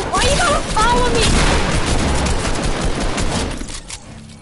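A rapid burst of Fortnite gunfire, loud and close, with booming shots packed together over the first seconds before fading out, while a voice talks over it.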